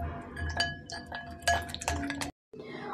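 Spoon stirring spices in a dish for microwave shahi paneer gives a series of close clinks and scrapes against the bowl, irregular and fairly quiet, with a short silent gap near the end.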